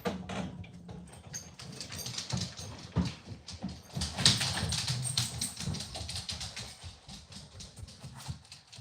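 Several pet dogs moving about indoors during an online Bible study gathering, with paws tapping and clicking on the floor, soft whimpers and snuffling, close and fairly quiet, no talk.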